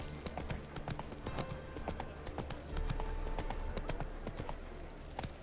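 Roach, Geralt's horse in The Witcher III: Wild Hunt, gallops with steady, dense hoofbeats over a continuous rumbling ambience, loud and close, with no speech.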